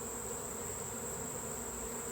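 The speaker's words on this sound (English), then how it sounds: "You just brush the bees into this box" Honey bees buzz in a steady, even drone during a honey harvest, faint and unbroken with no talking.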